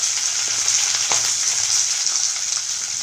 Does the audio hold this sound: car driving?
no